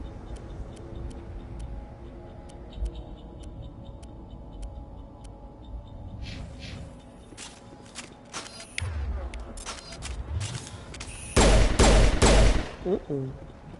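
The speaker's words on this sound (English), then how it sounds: "I think the Stinger is the one that has the burst shots" A burst-fire pistol called the Stinger fires in Mass Effect Legendary Edition on Eden Prime, several quick clusters of sharp shots, the loudest burst near the end, after a stretch of ticking and footsteps.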